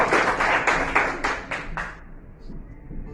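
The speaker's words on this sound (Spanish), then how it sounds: "Dale un aplauso al Rey de Gloria." A church congregation claps in a quick, even rhythm of sharp hand claps for about two seconds, then the clapping fades into quieter room noise.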